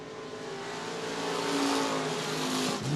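Stock cars roaring around Murray County Speedway, a continuous loud engine drone that builds over a few seconds as the cars come closer, then dips briefly at the end, with no talking.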